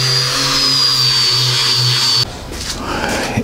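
A power tool sanding wooden boards and beams for a homemade bed and nightstand, a loud steady whine that cuts off abruptly partway through, leaving quieter clattering workshop noise.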